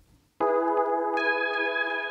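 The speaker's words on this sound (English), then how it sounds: "First, FM synthesizer, like this beautiful DX7." A sustained chord from a Yamaha DX7 FM synthesizer with a bright, bell-like tone enters abruptly after a brief quiet moment, swelling brighter partway through and holding steadily.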